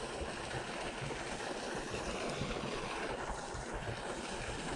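Fast-flowing river water rushes in a steady, dense broadband wash with wind buffeting the microphone, continuous and close throughout, with no voices.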